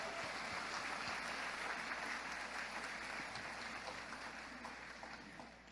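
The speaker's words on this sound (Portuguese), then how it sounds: "Você pode aplaudir a Jesus por isso?" A church congregation applauds during a Baptist service, a steady wash of clapping that fills the room at moderate loudness and slowly fades toward the end.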